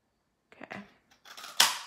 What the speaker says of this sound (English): So I'm gonna just cut these. Yep, punch those out.